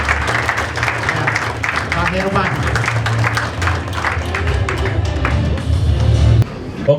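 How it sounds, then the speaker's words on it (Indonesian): Audience at an office inauguration ceremony in Bagansiapiapi claps in a steady wash of applause welcoming a speaker, while a host talks loudly over it on a microphone. "kita sambut dengan tepuk tangan yang paling meriah"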